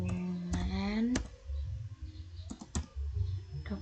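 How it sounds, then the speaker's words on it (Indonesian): Keys clicking on a computer keyboard while an mv file command is entered in a terminal, a handful of sharp, close taps spaced irregularly, with a voice briefly heard early on. "saya akan mengetikkan perintah mv"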